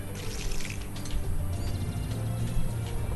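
In the farming game Monster Harvest, crops are watered with a soft splashing, trickling pour that runs under steady background game music at a low, even level.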